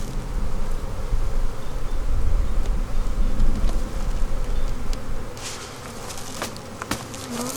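Honey bees swarm around an open hive in a dense, steady buzz, close and loud, thinning slightly toward the end as a few sharper clicks and knocks come through.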